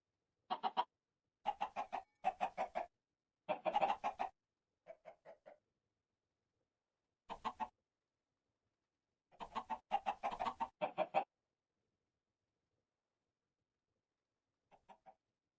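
Chickens clucking in a roost in the Minecraft FTB StoneBlock 4 modpack, short bursts of blocky clucks in scattered clusters separated by silence, clear and alone.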